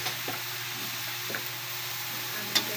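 Vegetables with cabbage being stirred in a hot pan for pancit, a steady faint sizzle with a few soft utensil scrapes and one sharper knock near the end.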